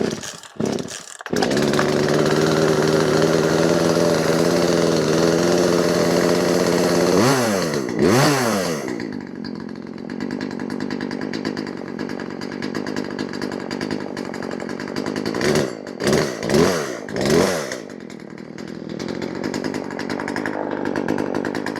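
A Poulan chainsaw starts after a few pull-cord attempts, then runs loud and close with a steady buzzing idle, revs up sharply in bursts, and settles back, with more quick revving toward the end.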